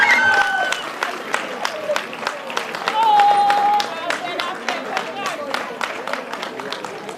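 An audience applauds at the 2025 Sierra Leone Association of Journalists Awards ceremony, steady rapid clapping throughout, with a voice or tonal sound briefly riding over the claps.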